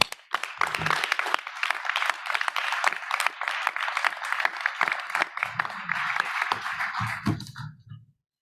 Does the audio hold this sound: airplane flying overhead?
no